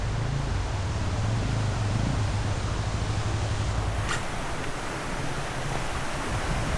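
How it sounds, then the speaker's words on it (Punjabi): A waterfall pours down beside a walking path near Nagni Mata temple in Jawalamukhi, Kangra, a steady, dense rushing roar that fills the whole stretch without pause. "ਝਰਨਾ ਆ ਰਿਹਾ ਉੱਪਰੋਂ"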